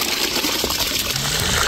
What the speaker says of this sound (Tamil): அது வடி கட்டியில் தான் அரிசி வடிக்கணும், அப்போ தான் சுத்தமாக தண்ணி வந்து வச்சுக்கணும்.